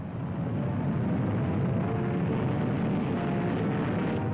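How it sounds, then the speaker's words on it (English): Boeing B-47 Stratojet swept-wing jet bomber, a steady broadband roar with low rumble, continuous and fairly loud without change. "There's the hot new jet bomber, the B-47 Stratojet, with swept back wings and speed near the sound barrier"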